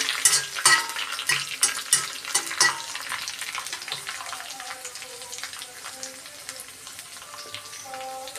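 Onion for a pickle fries in a pan and is stirred, with quick, rhythmic scraping strokes over a crackling sizzle that fades to a softer, steadier frying sound later on.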